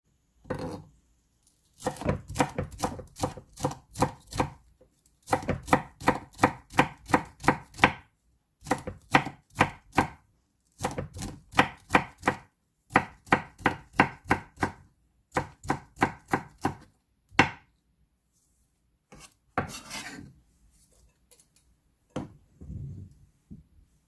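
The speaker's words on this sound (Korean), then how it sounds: "이렇게 해서 총총 쓸도록 하겠습니다." Quick knife chops through fresh seaweed on a cutting board come in rapid bursts with short pauses between them, close and crisp.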